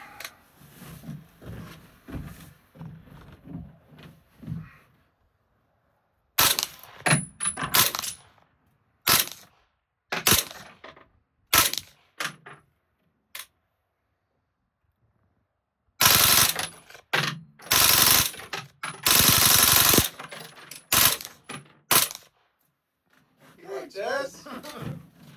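Semi-automatic rifle fired through a red dot optic, loud sharp shots in irregular bursts and quick strings with silent gaps between, with people talking at the start and end.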